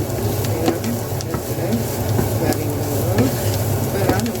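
Jaffna-style spring onion stir fry tossed in a pan, giving a loud, constant sizzle. Frequent light scrapes and taps from a stirring spoon come through at close range, with no speech.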